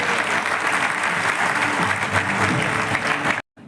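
Steady, dense applause from a crowd, loud and sustained for several seconds before cutting off abruptly.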